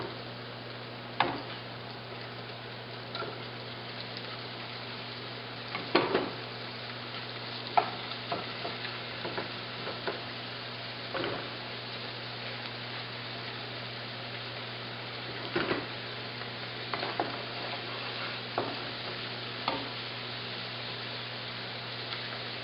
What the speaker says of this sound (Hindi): इसलिए मैं थोड़ा सा श्रिम्प को फ्राई करूँगी